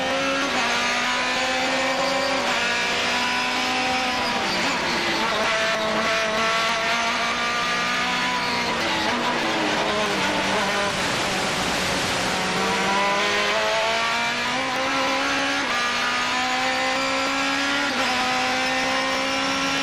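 GT2 race cars at the Mid Ohio sports car course, with Toyota-type engines much like the Ford Atlantic unit, scream past in a continuous loud wail, the pitch rising and falling through gear changes as several cars pass close by.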